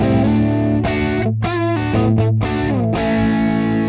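An overdriven electric guitar recorded through an Audient Sono interface plays sustained chords and bluesy bends with a warm, gritty distortion, ringing out steadily.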